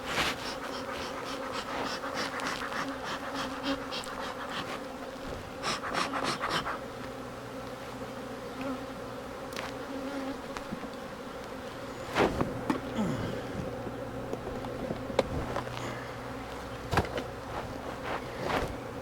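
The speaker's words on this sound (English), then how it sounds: "Get some shakes of bees." Honeybees buzz in a steady drone around an opened beehive as it is split using swarm cells, with sharp knocks and clunks from handling the wooden frames and boxes at close range.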